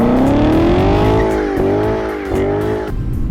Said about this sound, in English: This car just has your classic American muscle sound